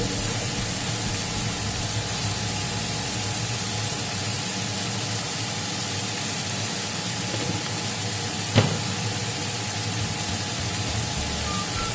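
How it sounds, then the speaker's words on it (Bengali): Vegetables fry in a pan for street-style vegetable masala Maggi, a steady loud sizzle and hiss running unbroken throughout, with one brief clink partway through. "সবজিগুলো আমি একটু ভেজে নেব।"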